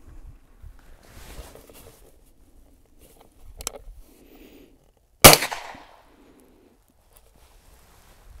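Single sharp, loud crack from a Daisy VL caseless rifle firing a shot, preceded by quiet handling noises and followed by a short decay into near silence.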